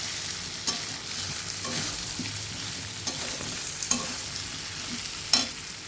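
Chopped tomato sizzles and is stirred in a frying pan, a steady hiss broken by a handful of sharp spatula scrapes spaced a second or two apart, close and moderately loud with no talking.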